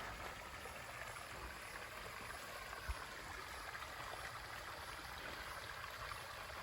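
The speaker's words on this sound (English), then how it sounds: "It's about as close to the waterfall as you're gonna find" A small waterfall on a nature trail at Camp Milton Preserve in Jacksonville, Florida gives a steady, close hiss of rushing water with no pauses and no voices.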